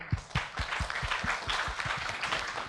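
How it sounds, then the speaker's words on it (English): A conference plenary session audience clapping together, with a few distinct loud claps at first merging into continuous moderate applause. "Let's give one round of applause together."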